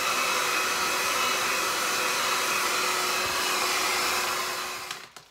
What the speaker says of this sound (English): What I do now is heat it up using the heat gun.